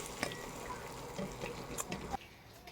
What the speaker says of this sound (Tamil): வெங்காயம் போட்டு வதக்கி